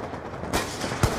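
Gunfire in the Black Ops 2 video game: two sharp shots about half a second apart, each with a broad burst over a steady game-noise background, with no voices.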